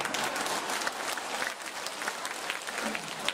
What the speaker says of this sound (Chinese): 啊，鼓掌的人都是很会写的。